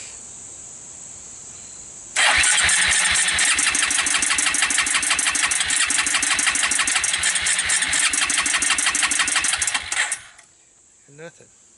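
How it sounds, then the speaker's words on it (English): A Suzuki Quadrunner 250 ATV engine fires and runs with no carburetor fitted, a loud rapid pulsing chug lasting about eight seconds before cutting out abruptly, followed by a brief faint rattle. "Fired without a carburetor."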